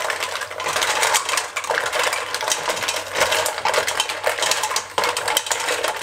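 Cleaned mussels stirred in a pan, their shells rattling and clattering against the metal in a dense, continuous, loud scraping clatter with no talk over it.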